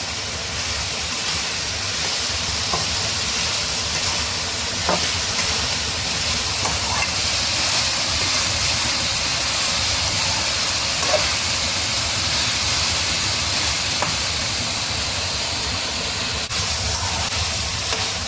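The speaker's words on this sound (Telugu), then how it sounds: "ఇట్లా ఫుల్ ఫ్లేమ్ మీదనే వెజిటబుల్స్ని ఫ్రై చేసుకోవాలి." Mixed vegetables frying in oil over a full flame for a kada masala curry, giving a steady, loud hissing sizzle that stays even throughout with no talking.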